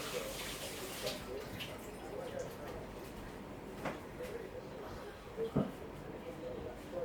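Tap water runs steadily into a sink while raw fish is washed, with a low continuous splash, a few brief clatters and a sharper knock near the end, all fairly quiet.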